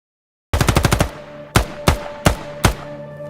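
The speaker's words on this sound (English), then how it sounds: "Gunshots ringing out." A rapid burst of gunfire, five or six quick shots, followed by four louder single shots spaced out at steady intervals, sharp and close.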